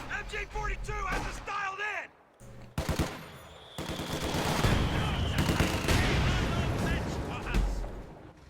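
Gunfire barrage on a garrison in a real-time strategy game: dense rattling machine-gun bursts and heavy shots, steady and loud through most of the stretch after a short pause, under a talking voice.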